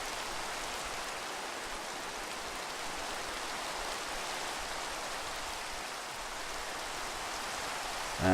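Steady, even rainfall hisses continuously without pause in the blocky video game Minecraft, Sky Factory 3 modpack. It is soft and unbroken, with no talk over it.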